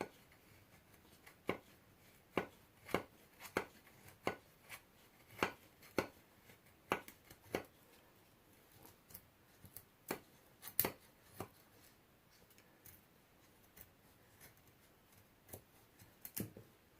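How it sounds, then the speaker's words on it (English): Sharp, distinct scraping strokes as a pipe wrench knife shaves fatwood, a quick irregular series of crisp cuts heard close up and alone. "Let's see if it'll let's shave some fat wood."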